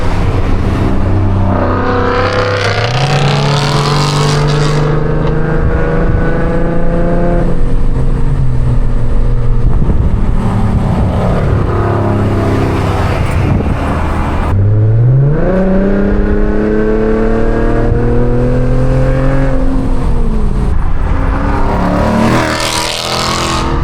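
A straight-piped Infiniti Q50s roars under hard acceleration, its loud raw exhaust climbing through rising pitch sweeps, dropping at a shift, then climbing again, heard close from inside the car.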